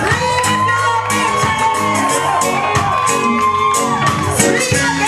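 A concert crowd screams, whoops and cheers loudly and continuously, with the shouting swelling in waves over music.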